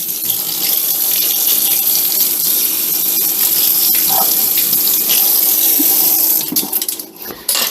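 Water runs from a kitchen tap to rinse something during the making of homemade mayonnaise with Dijon mustard: a loud, steady close splashing flow lasts several seconds, then falters and cuts out with a brief clatter.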